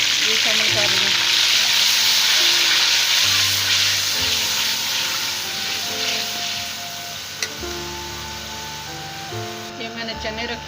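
A paste of onion and green chili fries in hot oil, giving a steady, loud sizzle throughout, with stirring clinks near the end and someone talking over the cooking.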